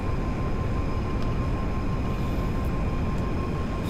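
A helicopter in GTA 5 Online, heard as a steady, continuous engine and rotor drone with a faint whine, even and unbroken throughout, with no talking.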